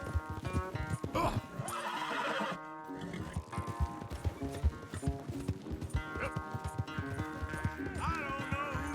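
Horse neighs and whinnies over clip-clopping hooves in the Red Dead Redemption 2 video game, with repeated loud calls and steady galloping hoofbeats set against a dense music and ambience bed.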